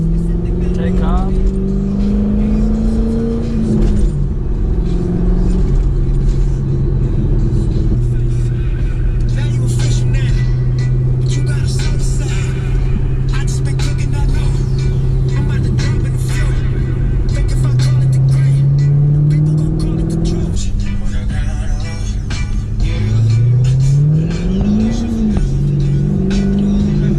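C6 Corvette cruising on a wet, rainy El Paso road, its engine droning and rising through gears with swelling revs, tire hiss and rain spray, while someone talks over it throughout.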